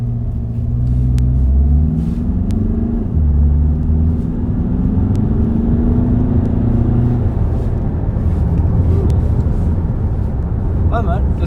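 A new Audi Q3 pulls hard under acceleration from inside the cabin, a loud engine drone rising in pitch then dropping at each gear shift, repeated several times over a steady road rumble.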